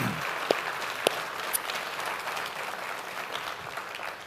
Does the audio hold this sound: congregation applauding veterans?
yes